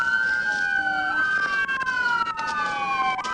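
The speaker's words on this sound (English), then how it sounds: "could you go turn my sirens off" A police siren wails up and down in slow sweeps, fairly near, with some faint clatter and movement underneath.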